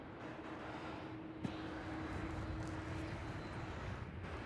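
A freight aircraft landing at Melbourne Airport, heard as a faint, distant, steady engine roar with no voices.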